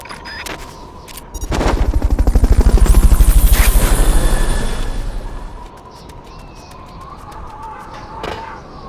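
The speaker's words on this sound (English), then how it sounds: "Fulton recovery helicopter is complete." Fulton recovery helicopter in Metal Gear Solid Peace Walker, a loud rhythmic rotor chop that swells to a peak and then fades away, with mechanical clanks and a brief whine laid over it.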